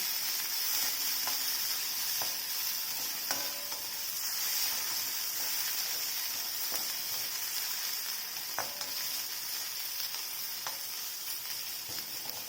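Green chillies and garlic fry in hot oil in a pan, giving a continuous bright hissing sizzle with occasional faint clicks from stirring.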